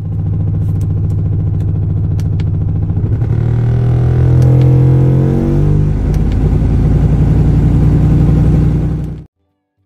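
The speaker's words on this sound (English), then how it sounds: "Customer states their car sounds like a helicopter." Car engine idling and running with a rough, chopping throb likened to a helicopter, loud and close, steady for about nine seconds before cutting off abruptly.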